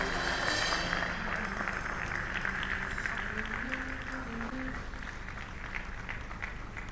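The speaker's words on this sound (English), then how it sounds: "Go and give God a clap offering." Church congregation clapping during a Sunday service, a broad steady wash of applause with faint voices mixed in, moderately distant and fairly quiet throughout.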